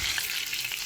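Fish sizzles in hot oil in a pan as pieces are turned, a close, continuous crackling hiss with faint stirring scrapes and no voices.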